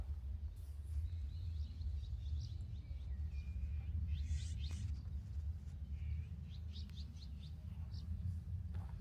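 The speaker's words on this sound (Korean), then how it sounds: "새소리만 울려 퍼지는 이곳에 있으면 머릿속이 정화되는 느낌입니다." Birds singing around a countryside house in Okcheon, with scattered chirps and short whistled phrases at moderate distance over a constant low rumble of background noise.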